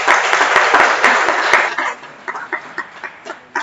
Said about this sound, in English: BRIN a round of applause.